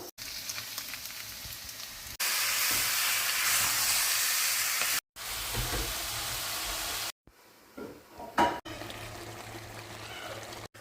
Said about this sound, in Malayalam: ഉള്ളിക്കകത്തോട്ട് ഈ ചിക്കൻ കൂടെ എടുത്തിടുക